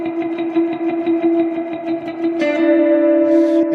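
An electric guitar played through a Valeton GP-5 with heavy delay and reverb rings out in sustained notes. Repeats pulse steadily beneath them, then a new chord blooms into a wide, washy ambient tail.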